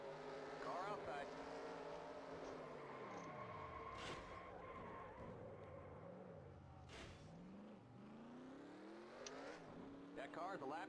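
Race car engines in the NASCAR Racing 2003 video game drone and whine steadily, with pitch sweeping up and down as cars pass and shift, loud and continuous, while a person talks over them.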